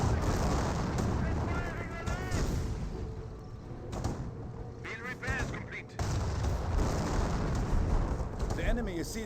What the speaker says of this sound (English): Wolfman barrages raining on in, missing the various infantry sections